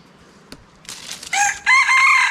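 A wild junglefowl crows nearby, a loud drawn-out cock-a-doodle call in two rising bursts after a brief click and rustle, in an otherwise quiet outdoor setting.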